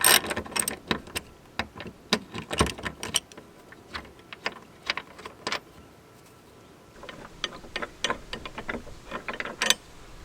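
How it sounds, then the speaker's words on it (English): A ratchet driving a Torx bit clicks as it backs out the tailgate hinge bolts on a Jeep JL, a run of quick, close ratcheting bursts with a short pause partway through. "Alright, so we're going to use a torque bit here"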